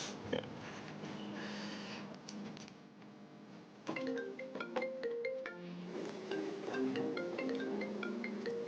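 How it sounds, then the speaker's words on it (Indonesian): A phone ringtone plays a repeated melodic tone pattern, loud and clear with no talk over it, in a scene from an Indonesian TV drama. "Gue angkat telepon dulu ya"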